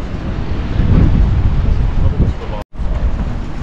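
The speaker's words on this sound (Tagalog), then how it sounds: "Pero lamig ah. Mahangin. Medyo windy." Strong, cold wind at Manly Beach buffets the microphone in a steady, heavy roar with gusty swells, briefly cutting out near the end.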